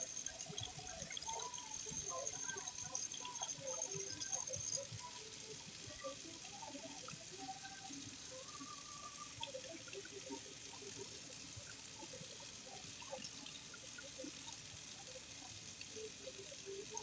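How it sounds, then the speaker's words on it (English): Running tap water splashes over a peeled tomato at a kitchen sink, a steady close rinse that holds for the whole stretch with scattered small droplet patters and no talking. "Rinse off your tomato."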